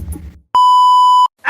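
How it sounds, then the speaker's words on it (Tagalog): A single steady electronic beep from an accidentally pressed cellphone, loud and clean, holding for about three-quarters of a second between brief bits of background noise. "napindot ko lang yung cellphone"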